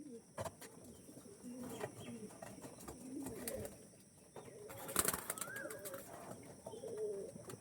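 Andhra, Arshad and Kalanka breed pigeons coo softly and repeatedly nearby, with light chirps and flutters over a faint background hum.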